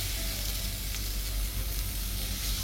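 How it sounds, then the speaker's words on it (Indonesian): Ground spice paste sizzles in hot oil in a wok for bihun goreng, a loud, steady, close frying hiss with no talking. "Panaskan wajan, beri sedikit minyak goreng, tumis bumbu yang sudah dihaluskan"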